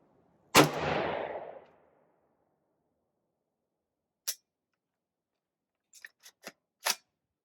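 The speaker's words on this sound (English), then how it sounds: "we're gonna shoot a group first with it, and then we will try to reach out some steel at 100 yards" A Springfield Armory Saint Victor rifle firing Wolf .223 steel-case ammunition at a range with steel targets at 100 yards: one loud close shot with a ringing tail, followed by several faint, quick metallic clicks.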